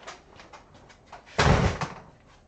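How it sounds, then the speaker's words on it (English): A printer's paper drawer slides and closes, a short muffled rumble followed by a louder thudding clunk, with faint light rattles before it. "the paper drawer is the most important thing in this entire system"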